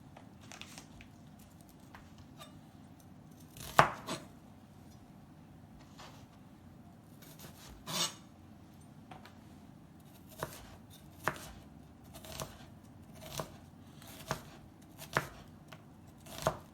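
Knife finely dicing vegetables on a cutting board while preparing Brazilian acarajé, sharp irregular chops that start sparse and then come quicker and louder toward the end, close and alone.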